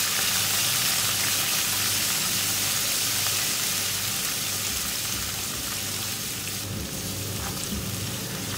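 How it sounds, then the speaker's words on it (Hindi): Garlic ginger paste frying with lightly golden onions for an aloo chana curry, a steady close sizzle that runs evenly through the whole stretch with no talk over it. "लहसुन अदरक का पेस्ट डाल के 1 मिनट मैंने इसकी भुनाई कर ली।"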